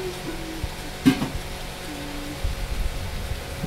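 Mutton sizzles in a pan as it is sautéed, with a soft, steady crackle, a sharp stir or clank near the start, and a low hum throughout, without any talk.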